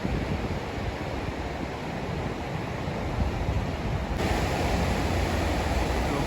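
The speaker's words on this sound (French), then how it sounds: "Le bruit des vagues." Ocean waves rolling in at a bay make a loud, continuous rush of surf mixed with wind buffeting the microphone, with a slight swell in intensity toward the end.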